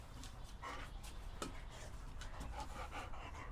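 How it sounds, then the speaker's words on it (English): A dog comes close and pants steadily through the whole stretch, soft rhythmic breaths with a brief rub or shuffle midway, heard alone without talk. "And we get a visit from the dog."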